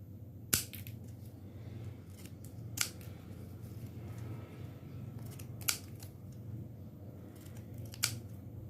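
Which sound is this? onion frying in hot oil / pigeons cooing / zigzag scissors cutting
zigzag scissors cutting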